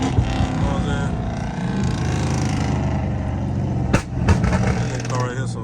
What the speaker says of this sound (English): That car right here so loud, bro.